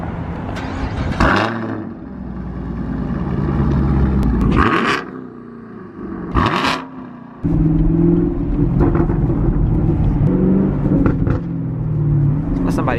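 A 2017 Chevrolet Camaro 2SS V8 with a Borla X-pipe exhaust and pop-prone tune, fired up loud and close, settling into a deep rumbling idle with sharp blips and revs, while people talk over it.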